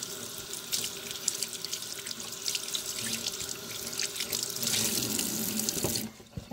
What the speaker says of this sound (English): I'm going to rinse it out.